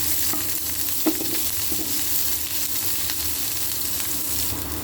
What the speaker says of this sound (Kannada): ಎಣ್ಣೆ ಕಾದ್ಮೇಲೆ ಸ್ವಲ್ಪ ಜೀರಿಗೆ, ಸ್ವಲ್ಪ ಸಾಸಿವೆ, ಆಮೇಲೆ ಈರುಳ್ಳಿ ಹಾಕಬೇಕು.